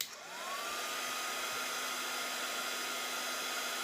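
A heat tool blows hot air onto shrink plastic for card and jewelry crafting: a steady whirring hum with a rising whine at switch-on, then a constant airy drone, alone and close.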